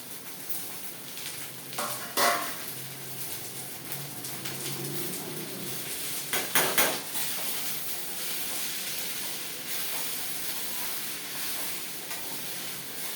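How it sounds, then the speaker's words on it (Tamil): Greens stirred into sautéed onions in a pan, a soft steady sizzle with a few louder scraping stirs, close and fairly quiet. "இப்போ கீரையை போட்டு வதக்கலாம்."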